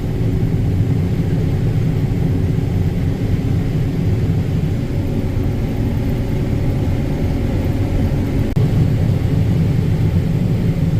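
Tractor pulling a grain cart across a harvest corn field, a steady low engine rumble that holds constant and close, with no voices.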